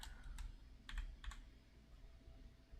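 Quick keystrokes on a computer keyboard while entering a card number into a form: a few short clustered taps at the start and a pair near the middle, fairly faint over quiet room noise.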